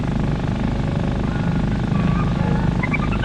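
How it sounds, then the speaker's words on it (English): Four propeller engines of a Sky Chief airliner running during a ground test, a dense steady drone with pulsing low throb, loud and continuous, with faint higher whines rising near the end. "Most parts are tested on the ground as the four engines come into life again"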